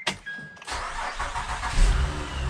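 A car engine cranks with a starter whine, then catches and settles into a rough, steady idle with a slight rev, heard close up from inside the car.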